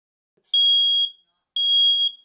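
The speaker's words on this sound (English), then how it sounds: "Push the test button once a month to be sure they're working." A household smoke alarm sounds its test signal: two loud, piercing, high-pitched beeps, each about half a second long with a pause between, followed by a soft thump.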